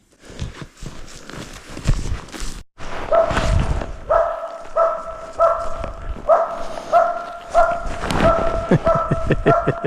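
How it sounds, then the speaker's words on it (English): A dog barks repeatedly in quick bursts, loud and close, with a few sharper yips mixed in and a brief pause early on. "Why are you barking at every tree?"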